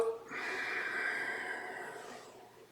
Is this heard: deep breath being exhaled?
yes